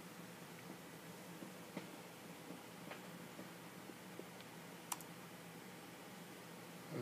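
Fingers tap out a password on a computer keyboard, a few faint, scattered key clicks over a soft background hiss, with no voices.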